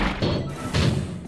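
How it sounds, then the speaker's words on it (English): Glass breaks in the puzzle video game Quantum Conundrum, heard as two close, loud smashing crashes with a heavy thud, alone and without talk. "Oh, breaking glass."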